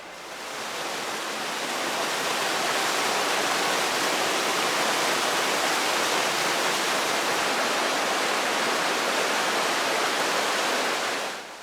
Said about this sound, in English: the waterfall coming out from underneath this natural bridge